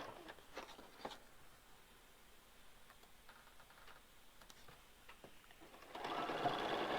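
A sewing machine stitches quilt pieces in quick mechanical runs of ticking and whirring, fairly faint and close, followed by a louder burst of broad noise at the end.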